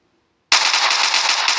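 Rapid automatic fire from a Glock 18 pistol in a video game weapons mod: after half a second of silence, a loud, continuous burst of gunshots runs to the end without a break.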